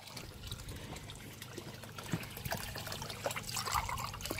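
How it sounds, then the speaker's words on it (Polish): Water trickles and splashes as it is poured into a glass, a quiet, bubbling stream over faint room noise. "nalej mi tam do tego wodę"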